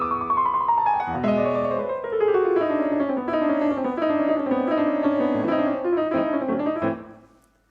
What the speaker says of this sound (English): A piece such as The Flight of the Bumblebee sounds like this.